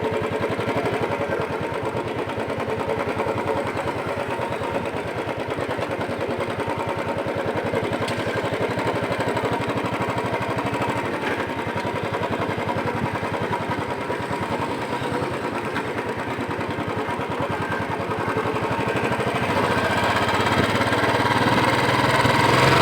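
A Royal Enfield Bullet 350 Standard single-cylinder motorcycle engine runs steadily close by, its rapid thumping pulse continuous throughout, building slightly louder near the end as the ride begins.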